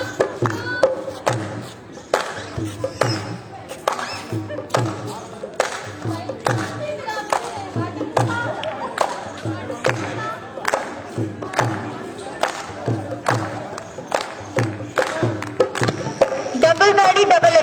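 Punjabi folk dancers at a lok naach camp at Lyallpur Khalsa College clap their hands and stamp their heels in a steady pattern of single and double beats, sharp and close, with a faint murmur from the group behind.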